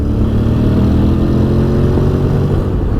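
A 2021 Honda X-ADV engine runs with a loud, steady close-up drone through a gear change, its low rumble holding even with no voices.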